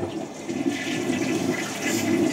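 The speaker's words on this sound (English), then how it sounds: "Flush the toilet." A household toilet flushes close by, a loud continuous rush and gurgle of water filling the whole short stretch, with no voices.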